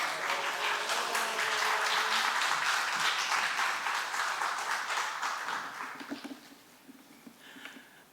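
A church audience claps to welcome a pastor, with dense, even applause that holds for several seconds before thinning out into a few scattered claps near the end.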